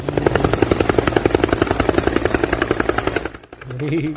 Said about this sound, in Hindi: हेलीकॉप्टर आगे गाइस